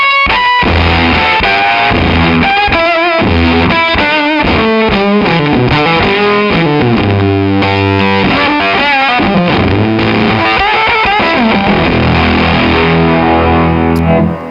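Electric guitar played through a clavinet-style pedal stacked with fuzz, giving a loud, dense, distorted tone with quick rhythmic chord and note stabs that run continuously without pause.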